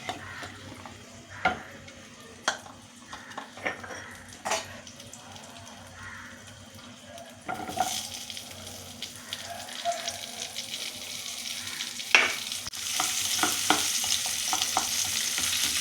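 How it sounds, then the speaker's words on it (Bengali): Onion and garlic fry in a pan for green pea ghugni, giving a steady sizzle with scattered stirring scrapes and clicks; the frying grows louder and brighter in the second half, with no talk. "এবার তুলে নিয়ে আমি পেঁয়াজ আর রসুনটা একটু ভেজে নেব।"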